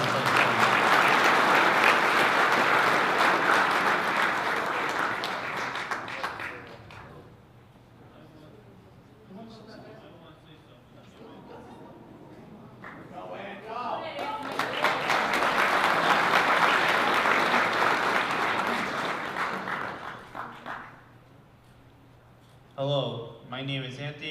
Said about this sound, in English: how about a nice round of applause for our unified basketball team